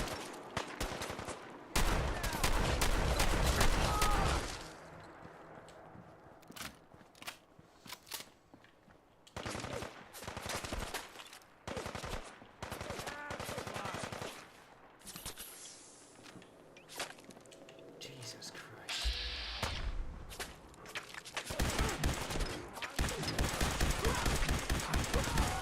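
Shotgun fire in Fallout 4 comes as repeated sharp, loud blasts, some clustered in rapid bursts and others spaced apart. Quieter stretches between them carry game noise and footsteps.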